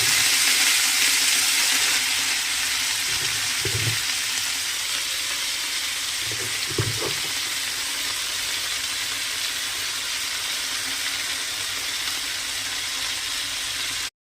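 Red amaranth leaves fry in a pan with a steady broadband sizzle and hiss that runs unbroken for about fourteen seconds. A few soft low clunks of stirring come through, and nobody speaks.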